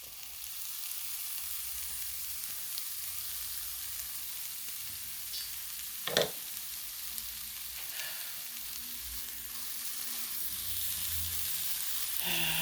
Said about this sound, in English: I'm just kind of dry sauteing today because I have mushrooms